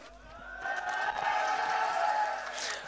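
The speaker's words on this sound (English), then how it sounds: "Appreciation from the crowd as well" A crowd at a Nepali National League football match, Manang Marshyangdi against Chitlang FC, swells into a rising cheer with whistles that holds for about two seconds, heard from a distance and fairly faint.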